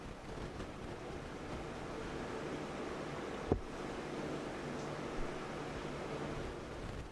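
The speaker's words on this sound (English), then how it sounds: "Sorry if you hear the rain outside." Rain falling outside, a steady faint hiss heard from indoors, broken by a couple of brief soft knocks and no speech.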